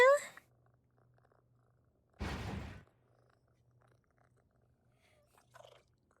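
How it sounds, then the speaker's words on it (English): A cat's purr rumbles faintly and steadily, with a brief louder nearby burst around the middle, in a quiet room with some short sounds around it. "I can hear my cat."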